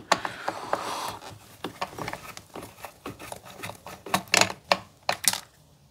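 Socket wrench loosening a 10 mm bolt on a Husqvarna 142 chainsaw during carburetor work: a close run of sharp ratcheting clicks and metallic ticks in uneven bursts, growing louder toward the end, with no talking.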